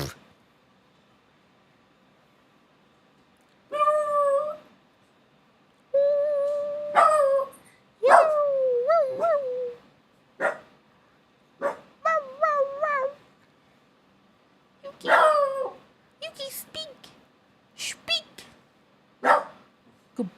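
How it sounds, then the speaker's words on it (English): A dog barks in separate bursts, some short and sharp, others drawn out and yelping, with brief quiet gaps between them, close and fairly loud. "I like his barks."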